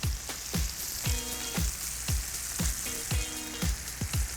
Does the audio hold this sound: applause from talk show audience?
no